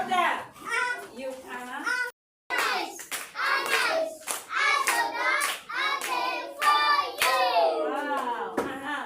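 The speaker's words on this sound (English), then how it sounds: "Can you clap with them?" Schoolchildren in class clap along in crisp, repeated bursts while their voices chant loudly over them, the hand claps cutting through between words with one brief pause.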